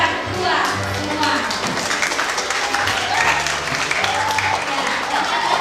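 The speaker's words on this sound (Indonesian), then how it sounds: "Tepuk tangan buat untuk orang tua semua" A crowd at a children's Christmas celebration held by a church congregation in Palopo applauds for the parents, with dense steady clapping throughout and voices mixed in underneath.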